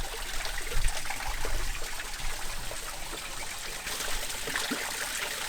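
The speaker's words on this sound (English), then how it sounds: "This is natural spring water." Natural spring water in Saint Lucia flowing steadily: a continuous close rushing and trickling stream with a broad hiss, even and moderately loud throughout, with no talk.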